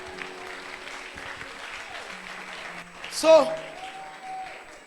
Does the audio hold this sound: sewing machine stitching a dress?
no